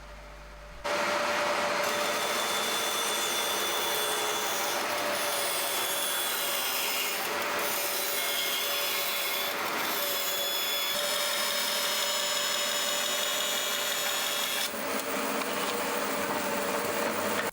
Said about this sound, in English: So now I can make a test cut, so I think we're going to try ripping some 4x2.